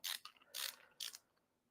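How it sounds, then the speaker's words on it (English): Screws being tightened into an Arcade1Up arcade cabinet bezel during a Dig Dug build, heard as three short ratcheting bursts close to the mic, each lasting about a quarter second, with quiet gaps between and no talking. "now I'm going to tighten the screws down"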